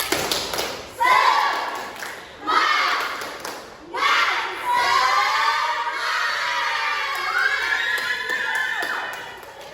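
Primary-school children in a fourth-grade class do the tepuk semangat clapping chant as an icebreaker: a few sharp clap bursts followed by sustained voices chanting together, fairly close.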